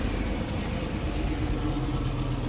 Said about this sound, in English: get rid of this pathetic exhaust sound